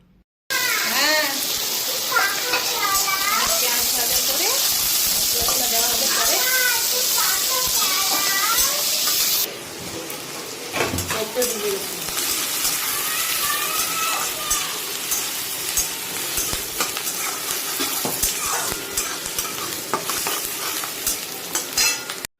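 Chopped onions fry in hot oil in a pan, giving a steady sizzle with stirring and clinking throughout, while a voice talks over the cooking.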